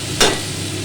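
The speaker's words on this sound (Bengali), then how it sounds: "এবার মাছ ভাজাটা এর মধ্যে দিয়ে দেবো।" Fried mourala fish drops into a pan of curry with tomato, potato and green chilli, setting off one short, close burst of sizzling that fades into a low simmer.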